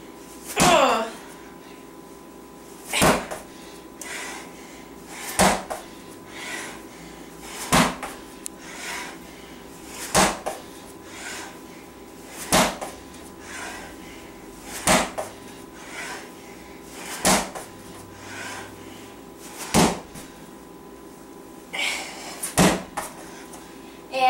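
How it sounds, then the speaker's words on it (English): Ball slams in a home HIIT workout: a heavy ball hits the floor about ten times at a steady rhythm, every couple of seconds, each one a loud, sharp thud that stands clear of a quiet room. "ball slams."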